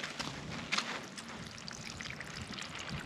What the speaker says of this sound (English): We'll just flood that hole so it fills up and then it can soak down in.